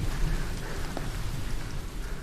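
Rain falls steadily in a dense, even hiss with a low rumble beneath, constant throughout with no voices.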